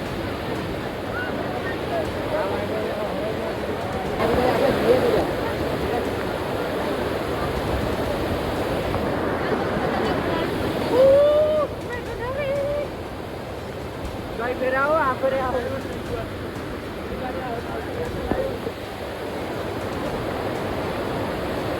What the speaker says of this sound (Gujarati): પાવાગઢમાં ભયંકર વરસાદ